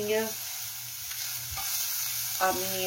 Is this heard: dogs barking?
no